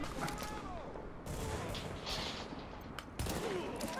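Bursts of gunfire crackle through a firefight in the video game The Division, with sustained rapid shots and several louder volleys, fairly close and dense throughout.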